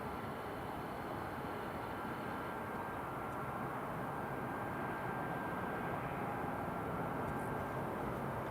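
An aircraft on approach to land at Newcastle International Airport, heard as a steady, distant, broadband engine roar with a faint whine, holding level and unbroken for the whole stretch.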